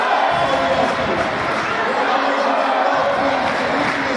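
A small crowd at a girls high school sectional volleyball final makes a steady, distant murmur of chatter and light cheering in a gym, mostly beneath a commentator's voice.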